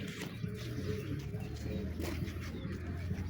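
Released pigeons cooing outdoors in a continuous low, dense murmur, a steady flock-like rumble of soft coos without clear pauses.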